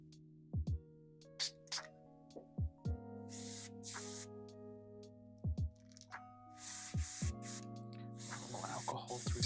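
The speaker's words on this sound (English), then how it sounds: "I'm gonna try spraying it on this little test piece I have while I'm waiting for that stuff to dry" A spray can paints a small 3D printed test piece in short, separate hissing bursts, a few seconds apart, over quiet background music.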